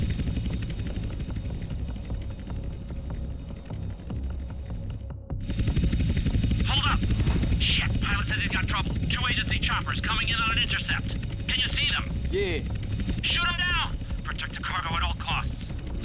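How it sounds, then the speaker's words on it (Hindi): Police helicopters arriving in GTA San Andreas, a loud steady rotor drone that grows stronger partway through, under someone talking. "तो यहाँ पे हमने सिग्नल दिया और ये हेलीकॉप्टर यहाँ पे आ रहे हैं"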